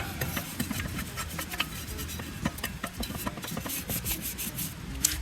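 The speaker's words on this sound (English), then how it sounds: "get the grime out, not much. Scrub it a little bit." Steady brushing and rubbing as grime is scrubbed off a BMW E36 front strut, a dense, close, continuous rasping scrub with small bumps and knocks throughout.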